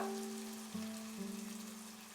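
Bread masala frying in a pan while being stirred, a steady soft sizzle with a low hum throughout, continuous and fairly quiet with no voices.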